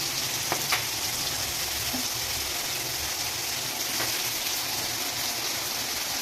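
Red bell pepper and green capsicum hiss and sizzle steadily in a hot pan, a continuous moderate frying noise with a couple of faint clicks, no voices.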